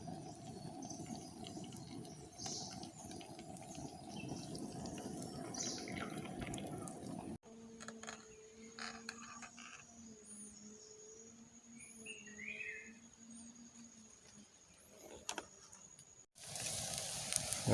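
Sooji and potato pieces frying in hot oil, a steady close sizzle and bubbling that thins to a quieter crackle partway through, with no talking.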